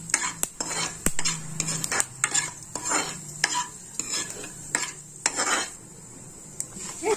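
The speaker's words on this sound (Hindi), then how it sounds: "एक चम्मच हम जीरा लेंगे और एक चौथाई चम्मच हम मेथी दाना लेंगे और इसको हम चला देंगे" Cumin and fenugreek seeds are stirred in a kadhai for besan kadhi, with a metal spoon scraping and clinking in irregular strokes over a faint sizzle and no talk.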